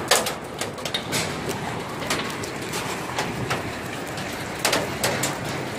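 Hailstones drumming on roofs in Stavropol, a dense steady clatter and hiss of impacts with sharper individual knocks standing out, spread wide and somewhat distant.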